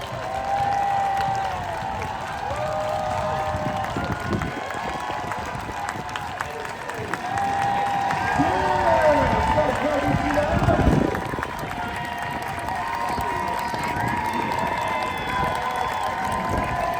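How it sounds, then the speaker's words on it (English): A crowd applauds along the route of the Cherry Blossom parade in Washington, DC, sustained clapping and cheering filling the air, swelling louder near the middle before easing back, with an announcer speaking over it. "Let's give another applause, another round of applause to our staff ambassadors."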